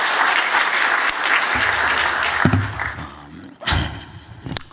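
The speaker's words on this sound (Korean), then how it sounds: "우리 다시 한번 격려의 박수를 드리겠습니다" Church congregation clapping in encouragement after a choir's performance during a Sunday service, a dense burst of applause that thins and fades, followed by a few thumps and scattered claps near the end.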